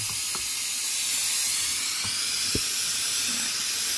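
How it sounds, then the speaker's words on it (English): An oxygen-gas torch with a size 7 tip burns as a big flame for melting an old casting down for a sand-cast ring, giving a loud, steady broadband hiss with a few faint clicks underneath. "bring some oxygen in, some gas, some oxygen, and we want quite a big flame"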